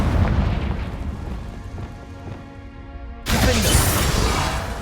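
A Confringo fire spell explodes in Hogwarts Legacy with one sudden, loud, broad blast that bursts in near the end after a lower rumbling stretch, then roars and holds at full strength.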